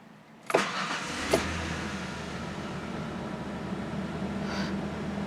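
A Ford Ranger with the 4.0 OHV engine cranks briefly and fires up, then settles into a steady, fairly quiet idle that runs on alone for several seconds.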